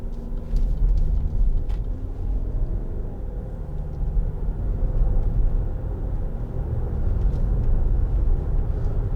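A 2013 Land Rover Freelander 2 SD4 drives steadily along a country road lined with hedges, with constant low engine rumble and tire noise heard from inside, no talking.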